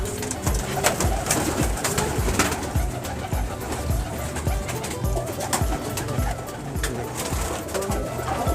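Teddy pigeons coo over and over in soft, overlapping calls, with a constant background hum and a faint murmur of voices.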